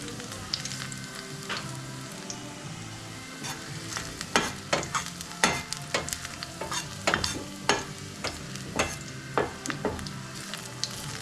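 Meat fries in heated oil in a home kitchen with a soft, continuous sizzle. Sharp clacks and scrapes of a utensil stirring the pan come in irregular bursts, and quiet music plays in the background.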